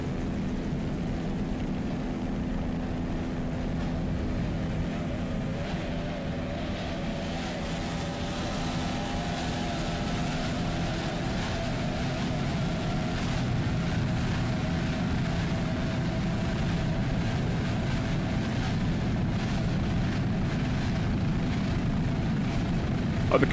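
The racing boat High Risk, powered by three Mercury 2.5 EFI outboards, roars steadily through an offshore powerboat race, a constant loud engine drone that holds without a break and carries no voices.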